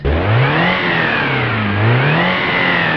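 A modded off-road car engine in a video game revs up and down in smooth rising and falling sweeps, loud and close, with no voices.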